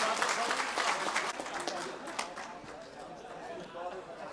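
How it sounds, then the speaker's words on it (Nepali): A crowd at a Nepali political party event gives scattered, uneven applause that thins out over a few seconds, with murmured voices and some chatter running underneath. "ताली अलि राम्रो बजेन।"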